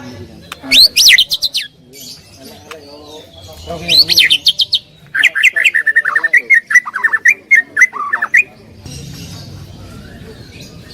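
Recorded call of a white-rumped shama played from a bird caller device: bursts of loud, varied whistled phrases and rapid trills repeating over several seconds, with lower chatter between them and faint background noise at the end.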